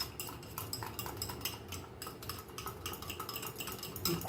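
A spoon beats egg into a banana flower cutlet mixture in a bowl, giving a quick, steady run of close clinking and tapping against the bowl.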